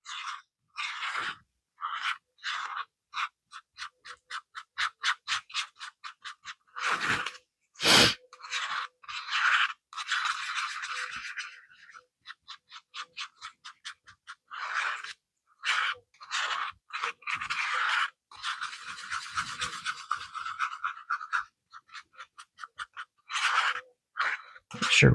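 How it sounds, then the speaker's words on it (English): Resin being stirred in a cup, giving a string of short scraping and clicking strokes in quick bursts with brief pauses between, close by, with no talking. "I just need to mix in some resin here. Mix this up."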